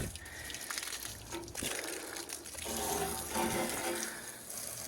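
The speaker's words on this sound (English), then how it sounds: "So I'm gonna rinse this whole boat" Water spraying and splashing steadily onto a boat hull and aluminum trailer, a continuous hiss of rinsing close by with shifting intensity.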